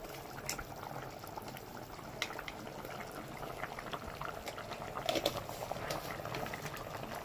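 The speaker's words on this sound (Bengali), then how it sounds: "ফুটছে তো এই সময় দিচ্ছি গরম মশলা" A dish of Gobindobhog rice and pointed gourd simmers and boils in a pot, its soft continuous bubbling broken by scattered pops and spatters, close but quiet, with no one speaking.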